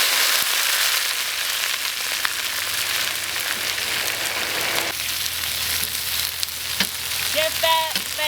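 Long beans, bitter melon, eggplant, chili and tomato stir-fried in hot oil, giving a steady loud sizzle throughout with scraping stirs near the end and no talk.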